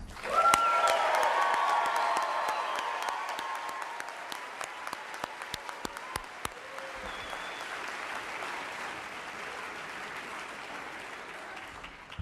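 Sustained applause from an audience for NASA's astronaut candidate class. It swells loudly at first, then thins to a steady, slightly quieter patter of clapping for the rest.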